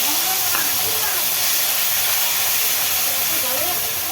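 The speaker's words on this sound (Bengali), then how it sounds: "এই যে সর্ষে ভেতরে রেখেছি সর্ষে পোস্ত আর একটু কাজু বাদাম দিয়েছি এটা তেলে ছেড়ে দিলাম" Mustard and poppy seed paste with cashews sizzles in hot oil while making a yogurt eggplant dish; a loud, steady hiss runs throughout with a faint voice underneath.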